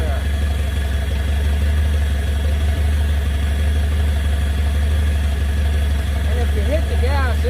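An old scrapyard car engine, started for the first time in 35 years, idles steadily and close by with a rough, continuous running noise, while a voice talks over it.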